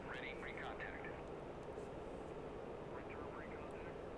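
A Mirage 2000C jet in the DCS World flight simulator accelerates with a steady, broad engine roar that stays constant throughout. A voice speaks quietly over it.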